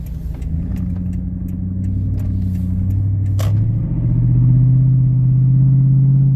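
A Toyota Tundra V8 with exhaust cutouts opened, its deep rumbling exhaust heard close as it drones, then swells louder and higher as the truck accelerates, with a few clicks early on.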